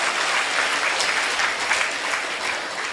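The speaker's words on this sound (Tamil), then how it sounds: "உங்களுக்கு நீங்களே கைத்தட்டி கொள்ளுங்கள்." Steady, dense hand clapping from a seated audience at a Tamil spiritual talk, even in level and uninterrupted, with no voices over it.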